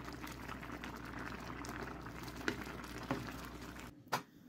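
Rice cooking in a covered pot for a dried-fruit pilaf, with the water nearly absorbed and salt added, gives a steady, soft, close bubbling hiss. A few small clicks and knocks sound near the end.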